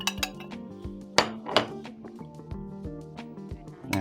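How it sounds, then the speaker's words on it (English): Dry ingredients for a low carb wholemeal seeded bread loaf tipped into a large mixing bowl, heard as a run of ringing clinks and hard knocks against the bowl, close and fairly crisp. "I'm going to start by putting all of my dry ingredients into a larger mixing bowl"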